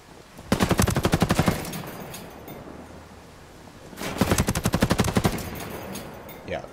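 Type 95 rifle in Ghost Recon firing two long rapid bursts of automatic fire, close and loud, separated by a quieter pause with no talking.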